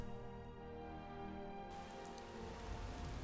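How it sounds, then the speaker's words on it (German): Steady rain falling in Skyrim, a continuous soft hiss of drops on surfaces that brightens partway through, with no voices. "Es regnet und wir haben 7 Uhr."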